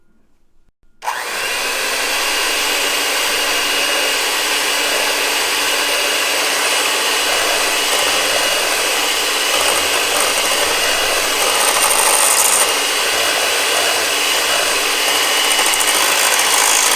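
Electric mixer beating ingredients on low speed starts abruptly after a moment of quiet, then holds a loud, steady whirring drone close by for the rest of the clip, with no talking.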